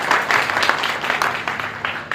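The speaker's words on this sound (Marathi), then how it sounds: "टाळ्या" A crowd at a public function in Morshi applauds loudly, with many hands clapping in a dense, continuous patter and a few sharper claps standing out nearby.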